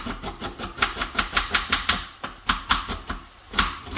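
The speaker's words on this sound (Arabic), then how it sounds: "دوك نقطع البسطه تاعنا" A knife chops basterma, a cured meat, on a board in steady rapid strokes, about four per second, close and crisp with a short pause near the end.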